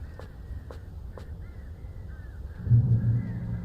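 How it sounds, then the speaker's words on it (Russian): Crows caw three times in quick succession inside the Alan Wake video game, sharp and fairly faint over a low, steady rumble, followed by a heavier swell of low sound near the end. "Слышь, вороны-сатанисты."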